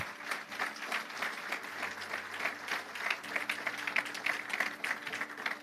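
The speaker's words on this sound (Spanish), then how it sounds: "No aplauda por la mitad, se aplauda completo." An audience applauds steadily, a dense wash of many hands clapping at moderate volume with no voices standing out.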